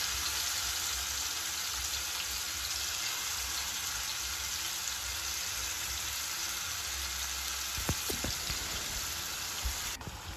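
Marinated prawns sizzle in ghee on a griddle, a steady close frying hiss running throughout with a few louder spits and crackles near the end.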